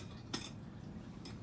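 A small titanium camping cook pot and spoon for backpacking, handled with two light metallic clinks a second apart against quiet background hiss, no talk.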